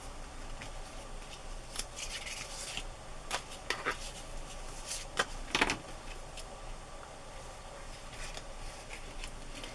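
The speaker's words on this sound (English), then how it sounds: "going to trim a little bit more off of this image" Scissors snip and trim a paper image for an iris-themed journal: a series of quiet, crisp cuts in irregular rhythm, a few sharper snips clustered near the middle, close up over faint background noise.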